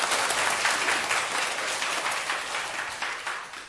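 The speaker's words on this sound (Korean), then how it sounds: "박수 한번 부탁드릴게요." Audience applause in a Korean lecture hall, a steady dense wash of many hands clapping that holds loud for nearly four seconds before easing slightly at the end.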